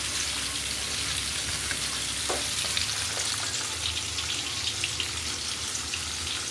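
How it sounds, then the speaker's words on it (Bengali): A pumpkin, potato and chickpea curry sizzles and bubbles in a pan, a steady soft frying hiss with faint clinks, heard alone and close. "আর অনেক কুমড়ো আলু ছোলা তরকারি হচ্ছে"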